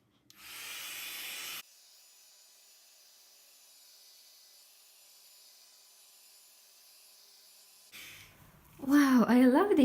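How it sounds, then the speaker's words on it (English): Cheap Parkside heat gun from Lidl blowing hot air over poured acrylic paint, a steady close hiss and rush of air that runs briefly, with a quieter fan drone lingering before a voice starts speaking. "So let's try my heat gun. It's cheap heat gun from Lidl, Parkside."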